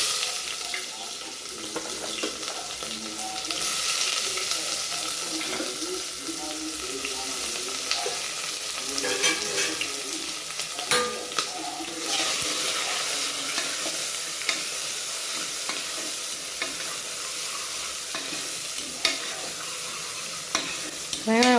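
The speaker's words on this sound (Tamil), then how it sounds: "வெங்காயம் வதங்கட்டும்." Onions fry in hot oil inside a pressure cooker for potato and brinjal kuzhambu, a dense continuous sizzle with frequent stirring scrapes and clinks, close and fairly loud, and nobody speaking.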